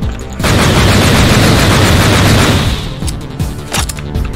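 A weapon firing in the video game Project Warlock, a loud sustained burst of rapid shots followed by a few separate blasts, close and dominant with no talking.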